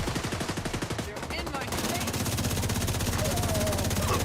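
Exotic assault rifle in The Division 2 firing long rapid full-auto bursts, a dense rattle of shots close up amid game combat noise, with voices briefly audible.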